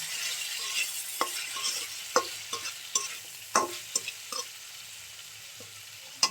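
Potatoes, carrots and eggs fry in a pan while being stirred, with a steady sizzle and several sharp utensil scrapes and knocks at irregular intervals, close and alone without talk.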